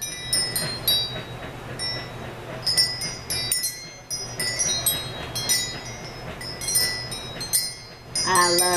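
Keys hanging in a homemade key wind chime knock against each other, giving repeated bright metallic clinks and jingles in irregular clusters over a soft background hum.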